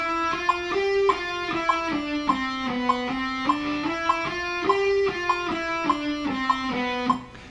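Electric guitar plays a repeating quarter-note triplet rhythm, sustained notes stepping through a short pattern, clear and close with no talk, ringing on alone for several bars.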